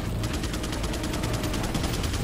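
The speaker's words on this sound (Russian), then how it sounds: "Так, два выстрела было." Rapid gunfire in Resident Evil 4, a fast regular train of sharp shots repeating evenly across the whole stretch, loud and close with a dense background.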